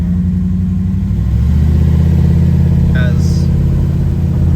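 A Jeep TJ Wrangler with a 5.9 Magnum V8 swap accelerates, its engine a loud, close, steady rumble building slightly in strength, with a brief higher squeal near the end.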